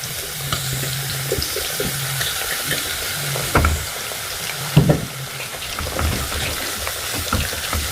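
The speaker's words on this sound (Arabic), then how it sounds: "بعد ما حطينا كده السمنه والزيت وسخن، هننزل بقى بالبصله بتاعتنا" Chopped onion with green bell pepper and a little hot chili dropped into hot ghee and oil, a steady broadband sizzle with wet crackle throughout and a couple of louder stirring clatters, no talk.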